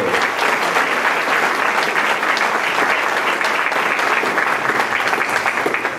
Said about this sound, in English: how about a round of applause for Ricardo and his group